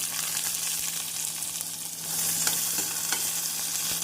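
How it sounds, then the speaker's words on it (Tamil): Steady sizzling of chopped onions and cumin frying in hot oil, with a few light clicks and stirring scrapes over a continuous hiss. "ஜீரகம் பொரியவும் நறுக்கிய வெங்காயத்தை சேர்த்து விடலாம்"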